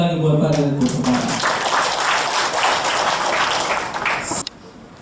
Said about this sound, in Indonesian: kita beri tepuk tangan sekali lagi buat Pak Direktur Kepala